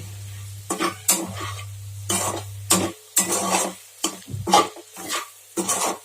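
Goat tripe (boti) fries in a pan and is stirred with a spoon, giving repeated bursts of scraping and sizzling, separated by short pauses, against a steady low hum.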